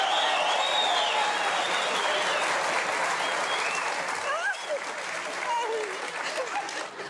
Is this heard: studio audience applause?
yes